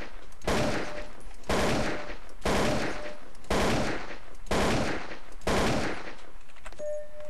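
An M4 rifle in Counter-Strike: Source fires six loud, evenly spaced bursts, about one each second, with short quiet gaps between them and no talking.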